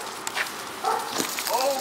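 A Billings police K9 dog barks and whimpers in a few short, excited bursts during a police training demonstration, heard moderately close amid background noise.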